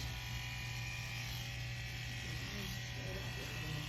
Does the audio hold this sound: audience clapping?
no